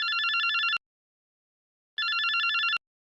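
Telephone ringing with an incoming call: two loud electronic ring bursts, each about three-quarters of a second long, separated by a clean silent gap.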